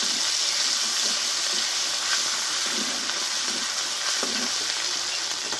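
Ground spice paste fries in oil with whole cumin seeds, a continuous close hissing sizzle with a few faint stirring scrapes now and then, no voices.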